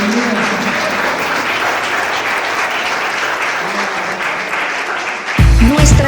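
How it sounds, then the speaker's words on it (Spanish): A church congregation at a Spanish-language worship service claps steadily throughout, a loud, dense wash of applause that ends with a thump and a brief voice at the close. "Den un aplauso a Cristo."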